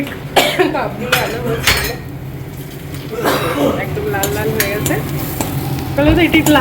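Onions sizzle in hot oil in a pan while a spoon stirs and scrapes them, with clinks of the pan and a voice talking over the cooking.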